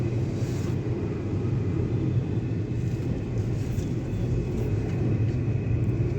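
Steady low interior engine rumble of a 2015 Hyundai Grand i10 Asta driving gently through a speed-restricted zone, continuous road and engine drone with no talk.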